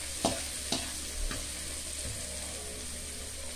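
Ingredients for a fresh corn soup sauté in a pan with a steady soft sizzle, punctuated by a few light stirring clinks early on.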